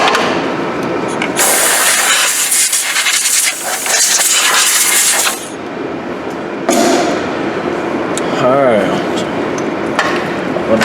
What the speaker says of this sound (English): Just blow a little bit of crud off.